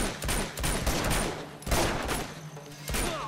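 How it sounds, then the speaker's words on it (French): Chaotic gunfight in Uncharted 2: Among Thieves, dense overlapping gunshots and impacts filling the scene loudly, with continuous rattling bursts and no pause. "Premier vrai gunfight depuis le début du jeu là."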